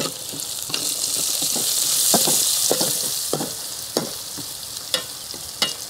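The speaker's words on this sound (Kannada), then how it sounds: "ಗೇರು ಬೀಜ ಬಣ್ಣ ಚೇಂಜ್ ಆದ ಕೂಡಲೇ ಶುಂಠಿ ಹಾಕಿ ಬಳ್ತೇನೆ ಸ್ವಲ್ಪ ಕೊಚ್ಚಿಟ್ಟಂತ ಶುಂಠಿ ಮತ್ತು ನೀರುಳ್ಳಿ" Chopped ginger and onion go into a pan of browning cashews for a millet pulao, producing a bright, close sizzle punctuated by repeated spatula scrapes and taps as the mixture is stirred, with no one talking.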